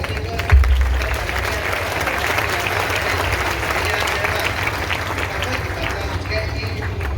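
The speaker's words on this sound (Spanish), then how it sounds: "hagan fuertes aplausos" A crowd at a priestly ordination applauds steadily, dense clapping filling the space at an even level throughout, with some voices underneath.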